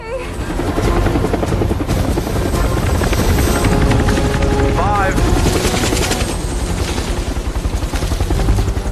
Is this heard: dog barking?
no